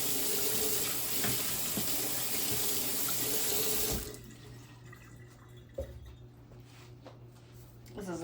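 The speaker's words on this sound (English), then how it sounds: "wash the spatula off again." A kitchen tap runs steadily into a sink as a spatula is rinsed, loud and close, then the flow cuts off and leaves quieter room sounds with a few small clinks.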